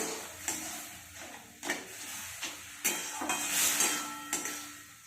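Pineapple chutney stirred and mashed in a wok with salt and turmeric, a spoon scraping and knocking against the pan in repeated strokes over a soft sizzle, close and fairly quiet.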